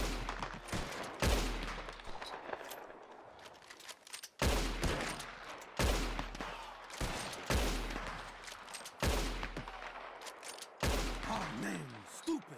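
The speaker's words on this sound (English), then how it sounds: "You shoot 4 birds out of the sky before me, you win." Gunshots fired at birds in the sky in Red Dead Redemption 2, a series of loud sharp shots roughly every second or two, each with a short echoing tail.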